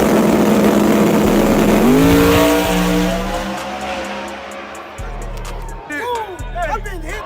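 Procharged small-block engine in a tuned car revving hard, a loud rising howl that climbs in pitch, then settles into rough, lumpy idling with brief blips, with people talking over it.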